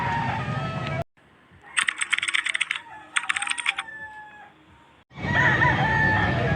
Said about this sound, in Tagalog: Nandito naman tayo sa bintahan ng mga manok.